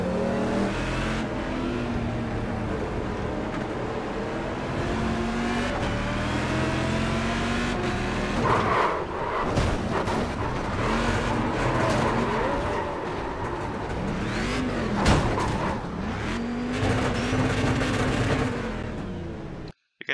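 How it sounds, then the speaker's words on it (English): A damaged race car engine revs unevenly at full speed on track, loud and close throughout with rising and falling harmonic sweeps and strained surges, no talking over it. "You can see I'm trying to rev the engine at this point"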